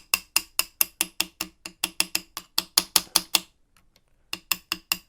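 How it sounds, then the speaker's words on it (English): Small punch, 2.5mm, tapped against a pin to drive it through a Remington 700 trigger: a rapid, even series of sharp metallic ticks, close and crisp, pausing briefly before a few more quick taps. "I'm going to tap it just across."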